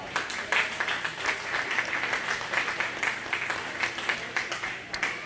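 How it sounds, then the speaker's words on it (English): Audience applause at a county fair 4H/FFA goat show, a brisk round of many hands clapping with rhythmic pulses, moderately loud and continuous for several seconds. "I think they all deserve a nice round of applause."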